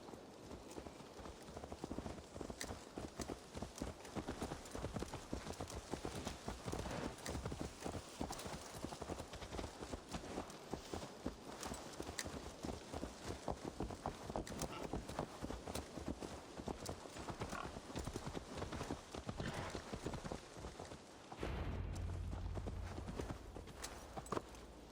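Horse hooves clip-clop steadily in Assassin's Creed Valhalla, a dense, continuous run of close, loud hoofbeats at a brisk walking pace, with a brief change in tone near the end.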